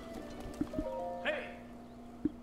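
Horse in the video game The Legend of Zelda: Breath of the Wild, led from a stable: a few soft hoof clip-clops with a brief whinny in the middle, heard against quiet background game music.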